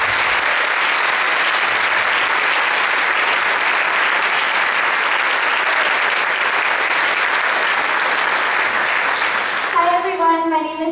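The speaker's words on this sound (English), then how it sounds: "give a round of applause as he comes up to conduct" A school concert audience at a spring band concert gives a loud, sustained round of applause for the conductor coming up, a thick wall of clapping and crowd noise that fades near the end as a few held instrument tones begin.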